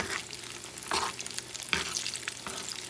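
Fish frying in oil for fish and chips: a soft continuous sizzle, close and fairly quiet, with a few brief louder crackles and bursts of spatter, no talk.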